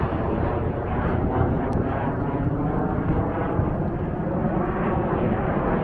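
Helicopters and fighter jets fly overhead at Torrey Pines golf course, a steady broad engine roar filling the whole span, distant but loud and unbroken, with no talking.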